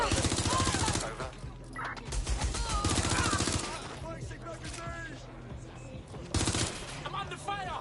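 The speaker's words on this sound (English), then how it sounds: "I'm under fire!" Dense automatic gunfire in Watch Dogs Legion rattles in loud, sustained bursts, with fast repeating shots and brief lulls between volleys, over other game noise.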